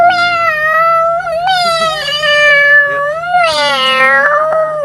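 A cat meows over and over in a near, loud, drawn-out string of calls that rise and fall, with no talking.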